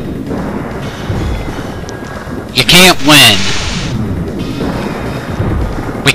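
The Thunder Justice thunder attack lands in Digimon World as a brief, loud crackling electric blast with warbling tones, set against steady wind-like game ambience, and someone talks during it.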